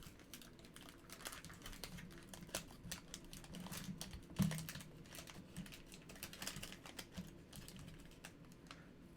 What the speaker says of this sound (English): Now these packs are popping pretty much right open.